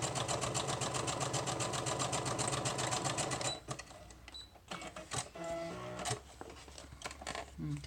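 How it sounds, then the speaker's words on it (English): A sewing machine stitches a packing paper journal, running in a fast steady chatter for a few seconds, then stopping and giving way to close rustling and handling sounds. "I'm sewing to the edge."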